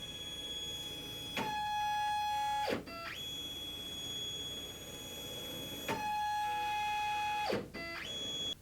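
Stepcraft CNC machine with a binding axis moving back and forth: uneven whining motor tones that shift pitch, with grinding scrapes and abrupt stops at each reversal, repeated twice.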